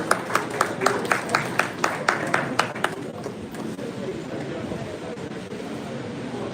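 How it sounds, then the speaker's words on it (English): A seminar audience applauds a speaker at a Rotary District 9112 public image event, a burst of separate sharp claps at first that spreads into a steady, dense round of applause filling the hall. "Let's give her another round of applause."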